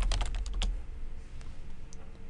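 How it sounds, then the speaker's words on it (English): A search term typed on a computer keyboard, a quick close run of clicky keystrokes for about half a second, then a few scattered single taps against a quiet room. "come up here to the right-hand corner and type in dropshipping"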